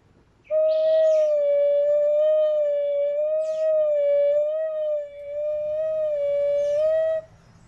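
A soft, steady flute-like tone is blown gently while a finger slides side to side over the hole, with faint breathy puffs and slight wavers in pitch, clear and alone.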